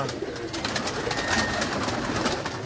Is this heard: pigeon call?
yes